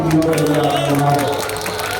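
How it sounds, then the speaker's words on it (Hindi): A crowd at a party induction event applauds loudly, steady clapping filling the space under a voice speaking over it. "जोरदार ताली"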